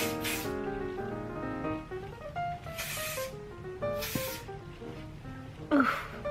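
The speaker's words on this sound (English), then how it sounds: "So now I'm just gonna go ahead and set everything in place with some hairspray." Hairspray hisses onto hair in four short, close aerosol bursts spaced a second or so apart, over soft background music.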